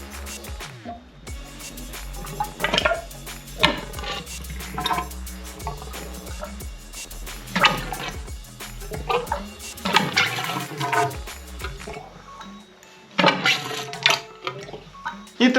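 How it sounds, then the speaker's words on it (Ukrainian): Engine oil poured into a 166FMM motorcycle engine in small amounts, irregular liquid glugs and trickles, close by, with someone talking at times. "тепер заливаємо десь спочатку 100 мл масла і помаленьку прокачуємо"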